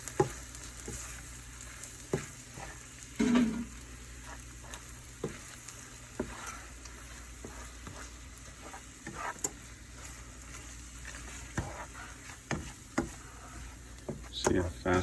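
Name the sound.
eggs being scrambled and cooked in a pan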